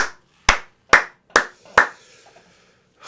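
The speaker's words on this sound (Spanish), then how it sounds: "Vale, un aplauso." Hand claps in applause, four or five sharp, evenly spaced single claps with a short pause between each, close and fairly loud, with no voices.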